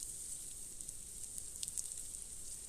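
Whole cumin and ginger sizzle faintly in hot mustard oil in a pan, a soft continuous hiss with a few small pops and crackles.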